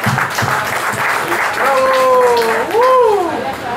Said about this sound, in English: A big applause for you familia, you are the chef today.